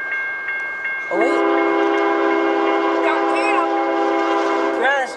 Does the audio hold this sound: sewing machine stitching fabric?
no